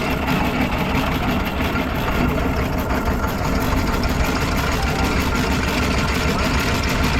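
A steam locomotive works up a gradient, giving a dense, continuous low chuffing rumble with a faint rhythmic beat, loud and close from the footplate, with no clear talk over it.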